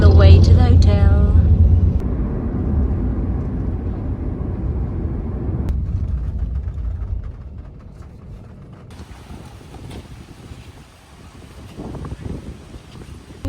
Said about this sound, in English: We are in a grab taxi.